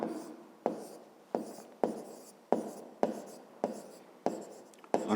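A pen writing on paper during a fifth-grade math exercise, a regular run of about eight close scratchy strokes, each starting with a sharp onset and fading quickly.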